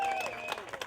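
An audience at a salsa cooking contest applauds in a continuous, dense wash of clapping, with some crowd noise and a voice briefly audible through it.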